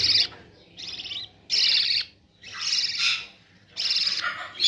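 Baby parrot chicks, around eight to ten days old, call during hand feeding with repeated shrill, raspy begging bursts in uneven rhythm, about five close, loud calls separated by short pauses.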